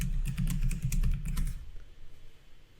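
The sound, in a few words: typing a password on a computer keyboard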